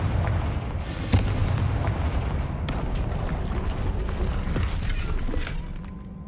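Confringo fire-spell blasts in Hogwarts Legacy burst as deep booming explosions over a continuous rumble, with two sharp impacts standing out near the start.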